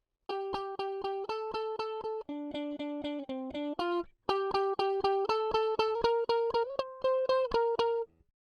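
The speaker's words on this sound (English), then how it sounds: "just have like a pulsing guitar part is great" An electric guitar plays a steady pulsing pattern of repeated chords, each chord chugging in even rhythmic bursts before shifting to the next, loud and clean.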